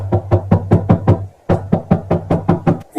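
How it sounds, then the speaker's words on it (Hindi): Loud, rapid knocking on a door in a cartoon story, a crow rapping out a quick run of about six blows, a brief pause, then another insistent burst of knocks. "कौवा जोर जोर से दरवाजा खटखटाता है।"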